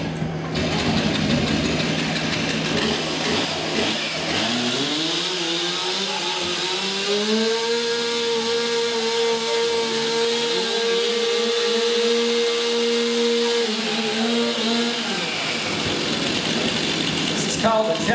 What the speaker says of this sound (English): this first event does involve these chainsaws, so I'm going to give these ladies a chance to get them warmed up